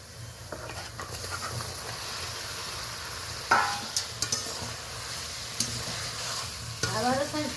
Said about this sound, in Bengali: এবার আমি ভেজে রাখা পটলটা অ্যাড করে দেবো।